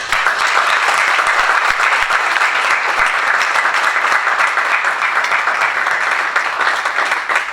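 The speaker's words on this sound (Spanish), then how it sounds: "Un fuerte aplauso" Sustained, loud applause from an audience at a conference or public event, dense clapping steady throughout with no voices on top.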